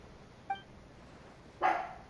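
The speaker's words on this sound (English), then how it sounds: "Dog, shut up!" A dog in the Genshin Impact game barks twice, a short faint yip followed a second later by a louder, fuller bark, with near silence between.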